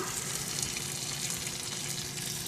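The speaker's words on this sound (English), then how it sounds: "Got some of the stuff leaking out, and it's actually boiling." Meat drippings boil and sizzle in the drip pan of a smoker cooking a pork butt. The bubbling hiss is close and continuous, with no voices.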